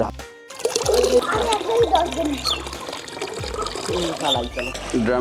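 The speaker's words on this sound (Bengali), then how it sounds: "বালতি করে পানি নিতে হবে আর ড্রামে" Water is poured from a bucket into a drum for a garden spray mix, a steady splashing fill with gurgling, heard under people talking nearby.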